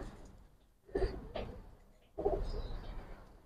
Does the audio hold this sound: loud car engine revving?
no